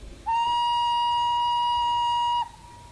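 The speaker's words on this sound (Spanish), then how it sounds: "eso fue el sonido de una puta flauta, literalmente" Train whistle in the Desperados 3 video game, a single steady pure tone held for about two seconds, flute-like and loud, starting and stopping abruptly.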